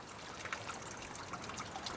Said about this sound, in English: You can hear the tickle of water flowing down from under the stone, trickling down from above.